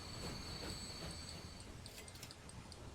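Trains run through the Transport Fever 2 game world, a steady rolling rumble with high metallic wheel squeal, alone and moderately close.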